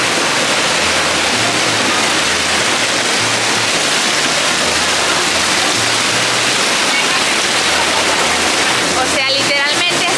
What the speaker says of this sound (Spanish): ha sido salir del hotel y que empiece a llover todavía más, más, más